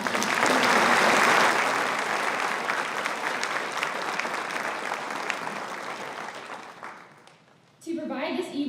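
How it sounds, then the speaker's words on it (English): A large audience applauds a musician at an Ivy Day college ceremony, loud dense clapping that gradually thins and fades, then a voice begins speaking over the room at the end. "Please join me in a round of applause for his talents and passion."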